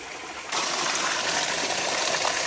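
Water from a village well in Jaffna being emptied by a pump bursts into a loud, steady gush after a brief quieter moment, rushing and splashing continuously close by.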